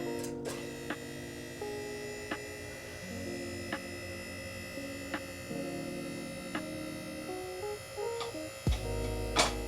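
A QuickJack electric car lift whirrs in a steady motor hum while raising a vehicle, with periodic clicks and small shifts in pitch, close and fairly quiet.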